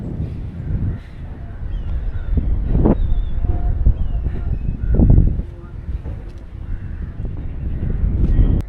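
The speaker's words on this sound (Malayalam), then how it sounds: "നല്ല തണുത്ത കാറ്റുണ്ട്" Cold wind at Thengappatanam coast in Kanyakumari rumbles and buffets the microphone in low gusts, swelling and easing across the stretch, with faint background noise and a little distant voice.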